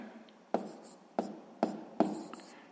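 A fraction multiplication worked out by hand on paper, with a few sharp pen taps and short scratchy strokes in an uneven rhythm, close and quiet, no speech.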